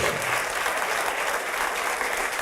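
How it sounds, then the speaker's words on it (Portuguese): A church congregation applauds during a sermon, steady dense clapping filling the room at an even level from start to finish, with no voice over it. "Vamos aplaudir ao Senhor."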